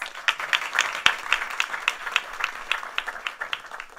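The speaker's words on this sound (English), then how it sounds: "can we give one more round of applause?" A small audience at a devotional musical talk claps in a loose, fairly quick rhythm, with individual claps clearly separate and moderately close, no talk over it.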